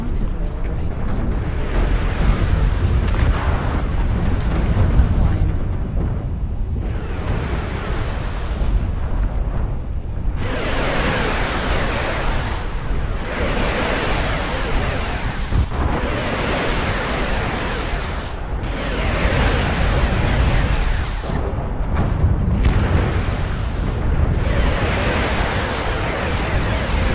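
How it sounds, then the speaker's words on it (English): An artillery strike in the MechWarrior Online video game, several heavy booming explosion bursts rolling one after another across the stretch, loud and rumbling, with deep low-end roar between impacts. "Artillery strike online."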